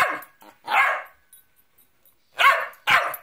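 A cockapoo barks at close range indoors, four sharp, mouthy yips in two pairs separated by a short silence.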